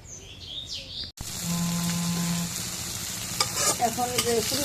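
Vegetable bhaji with chili, turmeric and salt stirring and sizzling in hot oil in a home kitchen, a steady close fry with scraping stirs, faint bird chirps in the background and no talk.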